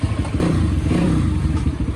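A motorcycle engine runs at a lakeside, a loud, rough, pulsing idle with slight revving surges and some clatter throughout.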